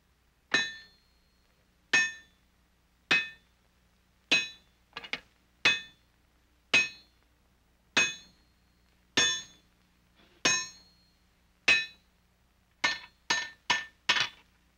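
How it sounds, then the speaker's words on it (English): A hammer strikes a heated bar of solid wrought iron at a forge, shaping it into a flat tapered scalp: sharp ringing metallic blows at a steady pace of roughly one per second, with quicker bursts of strikes near the end. "Here he will heat and hammer a bar of solid wrought iron into a flat scalp"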